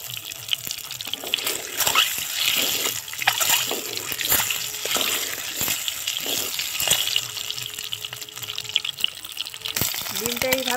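Eggs fry in hot oil in a pan with a loud, continuous sizzle and crackle, scattered spits and pops throughout.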